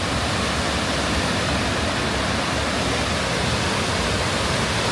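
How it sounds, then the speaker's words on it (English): A small waterfall on Canajoharie Creek, running high and muddy after heavy rain, gives a steady, dense rush of falling water that holds an even level and stays close and loud with no voices. "This is the little waterfall over here."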